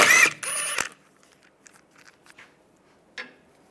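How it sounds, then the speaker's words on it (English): A 17mm socket spins lug nuts off a Volkswagen Beetle wheel: two loud mechanical ratcheting whirs up front, followed by quieter scattered clicks and one short metallic tap near the end. "And go around, take the other lug nuts off."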